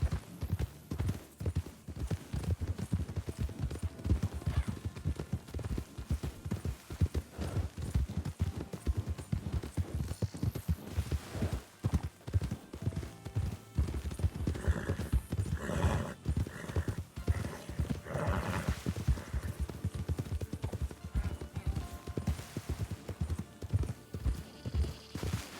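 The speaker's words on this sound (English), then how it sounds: "it's just the wild horses" Wild horses in the Red Dead game move nearby, their hooves clip-clopping in a steady run while whinnies and neighs rise partway through over outdoor ambience.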